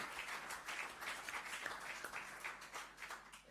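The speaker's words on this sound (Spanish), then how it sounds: "Un aplauso, ¿no?" Faint applause from an audience at a book presentation, a soft, steady patter of clapping heard from a distance throughout.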